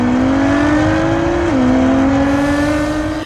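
Real race cars driving at speed on a racetrack, a loud steady engine roar with a rising, shifting pitch and a brief gear change midway, continuous throughout.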